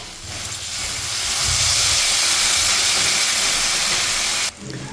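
Water poured into a hot pan of spiced vegetables for Bengali niramish shukto with bitter gourd sets off a loud, close, sustained hiss of steam that swells, holds for several seconds, then cuts off abruptly.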